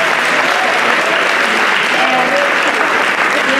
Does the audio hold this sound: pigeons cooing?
no